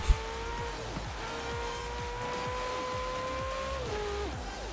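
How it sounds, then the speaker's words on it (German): A Ferrari 488 GTB in Forza Horizon 4 accelerates hard, its engine note climbing steadily through each gear and dipping briefly at every shift in a quick, repeated rhythm, loud and close with no talking. "wir fahren jetzt hier einen Ferrari 488 GTB"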